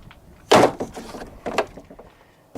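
The screen door of a 2011 Keystone Cougar fifth wheel RV trailer shuts with a sharp close, followed by lighter rattles and a second smaller clack, nearby and alone.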